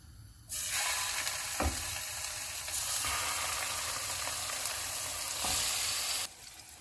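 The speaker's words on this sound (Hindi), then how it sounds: "ऑयल गर्म हो गया है, अब हम इसमें फ़िश डाल देंगे" Fish seasoned with garlic powder, black pepper and salt frying in two tablespoons of hot oil, a loud steady sizzle that bursts in suddenly, with a few clinks, then cuts off.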